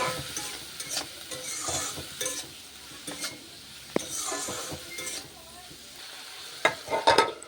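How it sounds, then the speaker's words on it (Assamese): Leafy greens with garlic and salt are stir-fried in a pan, heard as a steady sizzle under repeated stirring scrapes and occasional metallic clinks, with a sharp tap partway through and a cluster of clinks at the end. "ভালদৰে এইখিনি মিক্স কৰি ভাজি ল'ম"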